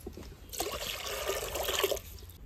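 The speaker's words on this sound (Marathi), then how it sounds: "कुकरमध्ये पाणी टाकून घेऊ।" Water is poured into a pressure cooker sitting on a stove to boil potatoes, a steady splashing pour of about one and a half seconds that starts abruptly and stops, heard close with no talking.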